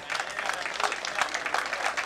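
Audience at a livestock auction applauding a completed sale, a short, dense burst of clapping close by and fairly loud, with no talk over it.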